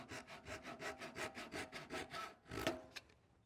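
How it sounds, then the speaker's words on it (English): A razor saw cuts a small wood turning free after the lathe is switched off, giving a quick, even run of close back-and-forth rasping strokes that end with a few light knocks. "I'm going to cut it off with a razor saw."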